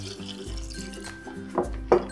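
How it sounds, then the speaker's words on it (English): Water poured into a bowl of dried mushrooms for soaking, brief splashing and pouring bursts near at hand, with a short hum and quiet gaps between pours. "we'll add enough water to cover the mushrooms"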